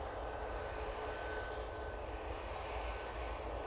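Virgin Atlantic jet airliner arriving from Atlanta, a steady broadband roar of engines holding at an even level throughout, distant and continuous with no voices over it.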